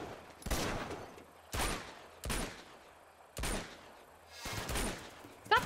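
Enemy blind fire in Uncharted 2: Among Thieves, five loud separate bursts of automatic gunfire with short gaps of quieter ambience between them.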